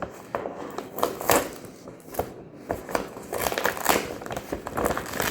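A food delivery package from a sister is unwrapped up close, its paper or plastic crinkling and rustling in irregular bursts throughout with no talk.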